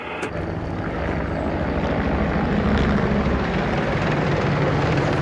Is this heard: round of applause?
no